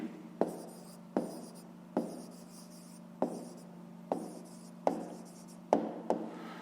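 A pen or pencil writes out an answer to a fifth-grade math exercise on paper in a series of short scratching strokes, each starting with a small tap, close and quiet over a steady low hum.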